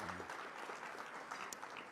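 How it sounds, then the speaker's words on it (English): Gala crowd at a teacher of the year celebration applauding, a steady, faint, continuous patter of many hands from across the room. "y'all can clap for that"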